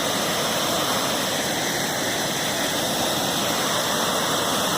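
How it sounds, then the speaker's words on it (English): A waterfall that has opened up after winter thaw roars as a dense, steady rush of water, loud and continuous with no breaks, heard close by on a ski outing with dogs. "We are at the waterfall again."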